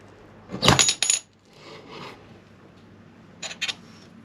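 Baileigh metal shear slicing 1.5mm mild steel plate, a loud close metallic crunch and snap, then a quieter rasp and two brief sharp clicks as the blade finishes.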